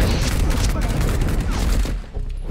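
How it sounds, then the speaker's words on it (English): Gunfire in the video game Marauders, a rapid volley of loud shots and booms close by, rattling continuously before cutting off abruptly, with voices shouting underneath. "He's shooting at me."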